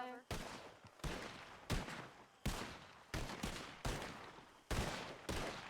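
Covering gunfire in the roleplay game Wild RP: loud single shots spaced roughly every half second to second, each with a sharp crack and decaying echo, steady and close.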